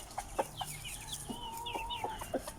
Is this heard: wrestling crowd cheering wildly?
no